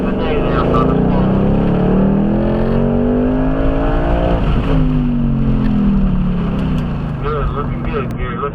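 A Ford Mustang Mach 1 engine runs on a race track at a racing school, a loud close in-car drone whose pitch rises and falls with throttle through the run, with a voice talking over it.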